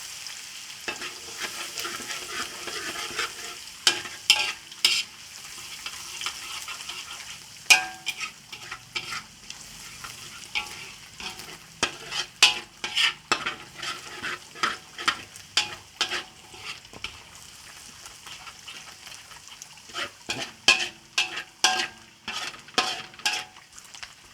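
Garlic frying in hot oil until golden for a Thai stir-fried noodle dish: a steady, close sizzle broken by repeated scraping stir strokes and clinks of a utensil against the pan.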